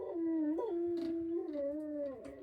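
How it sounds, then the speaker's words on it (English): A dog indoors in a home workshop gives drawn-out howling, whining calls that slide up and down in pitch, fairly quiet and with no talk over them. "Everything's going wrong and the dog's barking."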